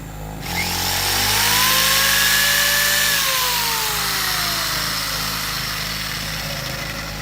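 A small two-stroke 0.7 kW portable generator engine runs steadily under load with a lamp attached, its loud buzzing drone wavering in pitch as the voltage sags and recovers, with no talking.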